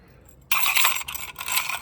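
A bunch of keys drops into a metal key safe by a house door, a sudden bright metallic clatter followed by a second rattling shuffle, close and fairly loud with no talking.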